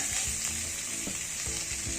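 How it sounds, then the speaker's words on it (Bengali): Vegetables fry lightly in oil in a kadai for a thin khichuri, giving a soft, even sizzle. Faint stirring knocks sound at regular intervals, and no one speaks. "এবার এটাকে আমি হালকা করে একটু ভেজে নেব"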